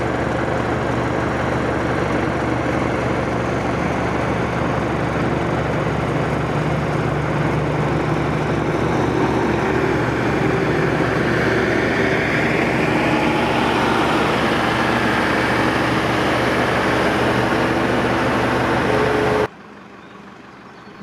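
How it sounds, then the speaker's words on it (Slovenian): An old Mercedes O321H bus with a 110-horsepower engine drones under full throttle, a steady heavy low engine roar sustained from within the vehicle before dropping away abruptly at the end. "S polnim avtobusom je moral pohoditi plinski pedal, saj ima motor le 110 konjskih moči."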